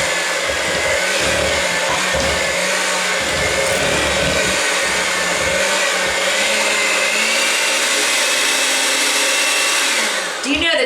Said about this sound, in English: we're going to go ahead and mix this together, starting on low speed